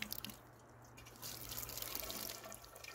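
Roughly half a gallon of puddle water poured into the top of a container, a close, steady trickling splash that grows fuller after the first second, quiet with faint outdoor noise and no speech.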